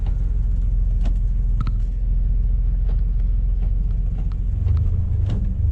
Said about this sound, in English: on the neutral give it like 2000 RPMs. Hold it for a few seconds, let it go